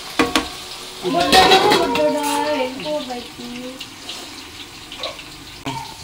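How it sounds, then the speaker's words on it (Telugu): Onions cook down in a pan for chicken curry, a soft sizzle with bursts of stirring and a stretch of running water around it, close by and fairly loud at first, then quieter. "చికెన్ కర్రీ ఉల్లిపాయ అయితే మగ్గుతుందండి."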